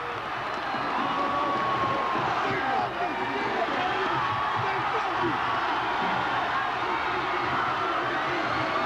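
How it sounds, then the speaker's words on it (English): Basketball crowd cheering during a 1995 Holy Cross vs Windsor state title game, a dense, constant roar from the stands that stays loud throughout with shouts mixed in. "You can hear the Waterbury crowd"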